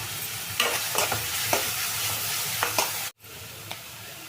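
Ingredients sizzle and fry steadily in a pan for a home-style vegetable gravy, with repeated stirring scrapes and crackles over a continuous hiss, briefly cutting out once before the frying resumes.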